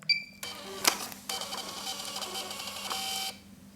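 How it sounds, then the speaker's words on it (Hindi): A receipt printer runs out an account-opening slip for a savings account on a rural postal device, a steady mechanical whir lasting about three seconds after a sharp click. "यहाँ पर एक प्रिंट आउट निकाल लेते हैं"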